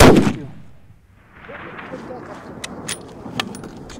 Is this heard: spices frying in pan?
no